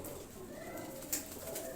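A flock of about thirty homing pigeons coos faintly in the background, with one brief, slightly louder call partway through over quiet ambient noise.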